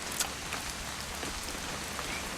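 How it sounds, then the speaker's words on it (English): Steady rain falls in the video game What Remains of Edith Finch, a constant dense hiss of drops on surfaces with a few faint patters, no voices. "It's gonna rain the whole weekend, isn't it?"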